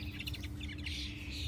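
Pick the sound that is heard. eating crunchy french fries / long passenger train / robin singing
robin singing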